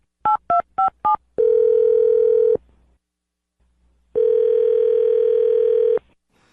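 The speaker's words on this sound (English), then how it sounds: "I'm going to dial his phone number right now" Four quick beeping keypad tones, then two long steady ringing tones separated by a silent pause.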